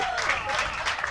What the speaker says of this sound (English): jubilant applause coming from around the ground